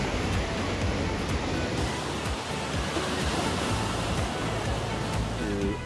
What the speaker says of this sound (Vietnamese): sóng siêu to.